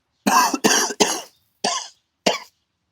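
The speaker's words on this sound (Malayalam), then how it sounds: "ചുമക്കുന്നുണ്ട" Five sharp coughs come close up, three in quick succession, then two more after short pauses, with silence between them.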